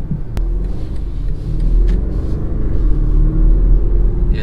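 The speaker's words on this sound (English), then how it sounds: "Oh yeah, I hear that V8. It sounds different." A deep, throbbing V8 engine rumble from a 2019 BMW X5 SUV builds steadily as it accelerates, heard loud and close from inside the cabin.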